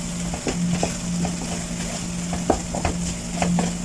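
A utensil stirs a tuna and egg omelette mixture in a frying pan, with soft scraping taps scattered over a steady sizzle and low background hum.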